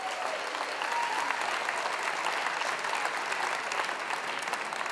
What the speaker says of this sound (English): So please, a round of applause for Nova.